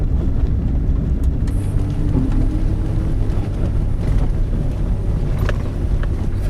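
A car that is not an off-road vehicle drives slowly along a stony mountain road, giving a continuous low rumble of engine and tires with steady wind buffeting close to the microphone.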